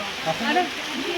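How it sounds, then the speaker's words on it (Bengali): Heavy rain falls in a steady, broad wash near a glass sky-view bridge in Wayanad, while a voice talks faintly underneath. "অনেক বৃষ্টি পড়ছে।"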